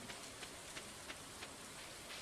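Rain falls in Stardew Valley as a faint, steady patter, with soft drops landing every few tenths of a second and nothing else heard.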